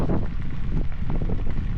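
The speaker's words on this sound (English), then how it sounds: "we lucked out with a very strong headwind for the last 15 miles into Oando" Strong headwind buffets the microphone of a bike rider heading west on a long-distance mountain bike route, a steady loud low roar of wind noise throughout with no talking.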